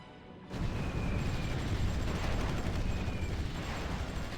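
Artillery bombardment in the Supreme Ruler Ultimate strategy game: after a brief quiet start, a dense, continuous rumbling barrage of booms sets in and holds loud and steady to the end, no voices.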